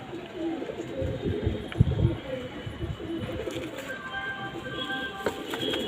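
A pet pigeon cooing close by, low soft repeated coos rising and falling, with other birds calling faintly in the background; someone talks quietly at times.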